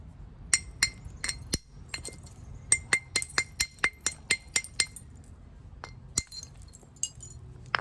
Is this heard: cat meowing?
no